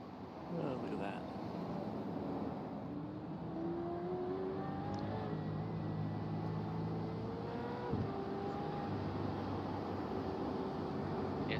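A V8 Supercars race car engine howls and shifts pitch through its revs on the Bathurst circuit of a sim racing game, steady and moderately loud beneath ongoing talk.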